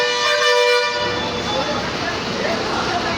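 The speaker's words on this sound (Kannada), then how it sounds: "ಹಾರ್ನ್ಗಳು ಕೇಳಿದರೆ ಭಯನೂ ಆಗುತ್ತೆ" A loud, sustained bus horn blares at the start at Dharwad old bus station, then gives way to busy traffic rumble and engine noise nearby.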